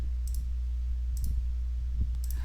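Mouse button clicks on a computer while closing a modal window in an Angular 8 web app, sounding as three soft, evenly spaced clicks about a second apart over a steady low room hum.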